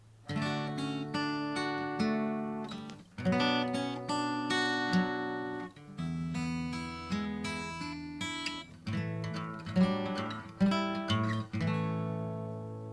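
Solo guitar playing a phrase from a song in a live arrangement, picked chords and melody notes in steady phrases, clear and close with no voices.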